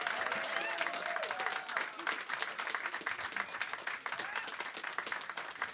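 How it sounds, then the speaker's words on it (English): A studio audience at a live radio session applauds with sustained, lively clapping and a few cheers and whoops that continue throughout, while a voice is faintly audible in the mix. "keep it going for Greg Holden."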